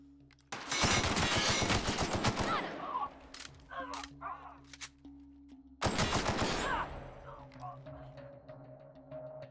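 Gunfire in The Outer Worlds, played on hard difficulty: two loud, dense bursts of rapid shots, the first lasting about two seconds and the second shorter, separated by quieter game sounds.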